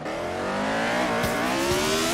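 A 1975 Formula One race car engine in Assetto Corsa at Watkins Glen, a high, steady whining roar that climbs in pitch as it revs, loud and close with no voices.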